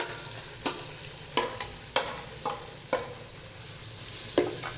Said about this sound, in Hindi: अभी इसके अंदर डाल देते हैं ये टमाटर वाला मसाला सारा